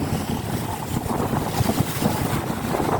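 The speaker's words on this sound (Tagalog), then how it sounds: "Sobrang hangin" Strong wind buffets the microphone in loud, continuous rumbling gusts, with no voices heard.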